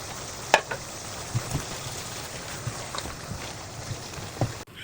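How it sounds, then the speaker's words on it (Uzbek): Halim meat fries in a pot for Samarkand-style homemade halim, a soft steady sizzle with a few sharp clinks and knocks scattered over about five seconds, no talking. "Yaxshilab qovurib oldik"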